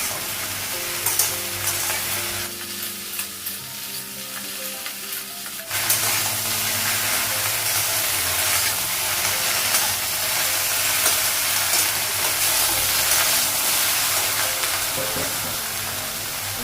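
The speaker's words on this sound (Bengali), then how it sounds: "আলু আর ঢেঁড়সটা একসাথেই ভাজবো" Potato and okra frying together in oil in a pan, a steady loud sizzle and hiss with occasional stirring scrapes, continuing without pause.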